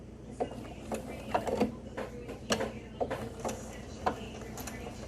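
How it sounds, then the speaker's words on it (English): A sewing machine runs a lock stitch on cotton fabric for a face mask, its needle mechanism thumping and clicking in an uneven series of close, moderately loud taps over a low motor hum. "And I'm going to do a lock stitch at the beginning."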